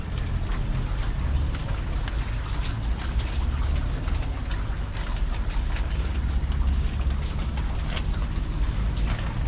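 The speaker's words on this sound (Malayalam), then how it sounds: "നമ്മളെ ഇപ്പൊ നല്ല മഴയുണ്ട് കേട്ടാ" Heavy rain pours down during an outdoor fishing trip, a loud, dense and unbroken roar of drops hitting water and surfaces nearby, with no speech.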